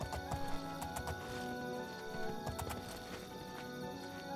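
Steady clip-clop of horse hooves at a walking pace in the video game Oblivion, fairly close, with a busy game-style background of music and ambience.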